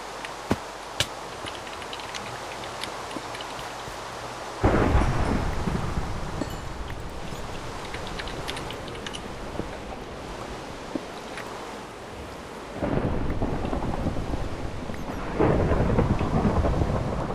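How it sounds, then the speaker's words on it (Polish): In the video game Minecraft, steady rain hisses throughout a thunderstorm while deep rumbles of thunder roll in and swell loudly twice, with no voices present. "Jest jeszcze burza znowu."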